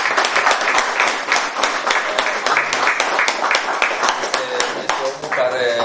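A crowd at a local council meeting in Dărmănești breaks into lively applause, rapid close hand claps continuing for several seconds as voices start to speak near the end.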